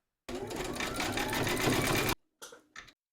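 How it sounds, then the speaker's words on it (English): A sewing machine runs steadily for about two seconds, zigzag stitching to join two fabric segments of a collapsible bowl, then stops, followed by two brief bursts of handling noise. "you're going to stitch round number 6, and that's going to zigzag down here and join the two segments together."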